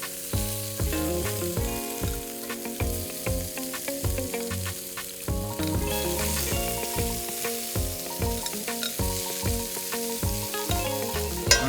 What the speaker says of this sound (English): we got a nice sizzle